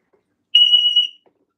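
A home security alarm system set off on purpose gives one loud, piercing electronic tone lasting about half a second, then stops, with nothing else around it.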